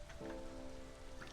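Drizzling rain in the video game Against the Storm, a soft, steady patter of light rain heard faintly throughout, with a brief tonal game chime layered over it.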